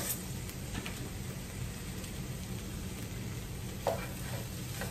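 Vegetables such as tomato and onion fry and brown in a pan, giving a steady, fairly quiet sizzle that runs on without a break, with one brief louder crackle near the end.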